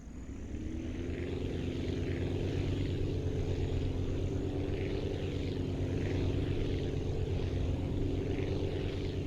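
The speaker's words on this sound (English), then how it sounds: "nice little rocket plane. See how well it flies." A rocket plane flies steadily in the Aviassembly building game, a continuous droning engine hum with a constant tone, loud and unbroken throughout, with no one talking.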